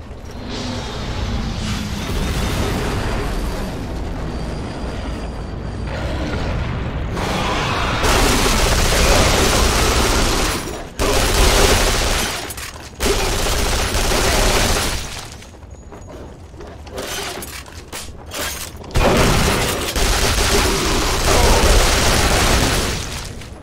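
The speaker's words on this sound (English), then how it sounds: "I just keep shooting guys constantly" Loud, relentless gunfire and explosions in the shooter Duke Nukem Forever, a dense, roaring battle that swells and drops in waves with brief gaps.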